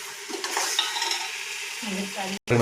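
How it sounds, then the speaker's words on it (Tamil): Masala for a country chicken biryani is stirred steadily in a sizzling pan, a continuous scraping and frying hiss running close and fairly loud before a brief cut near the end. "நல்லா மசாலா வந்து நல்லா கிண்டிகிட்டே இருங்க"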